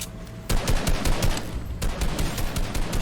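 Rapid gunfire from an arena shooter video game, bursts of loud close shots rattling in quick succession after a brief quiet start, with a short lull midway before the firing resumes.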